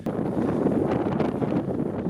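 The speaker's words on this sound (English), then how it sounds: "Well, it's still windy." Wind buffeting the microphone at a foggy, rainy seaside in Ireland, a steady broadband rush with gusty swells that keeps up for the whole stretch, with no voices.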